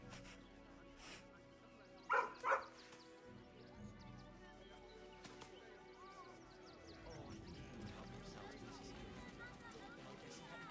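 Near the player in Baldur's Gate III, a dog lets out two sharp close barks early on, then quieter sniffing and whimpering sounds follow over soft ambient music, with speech occurring.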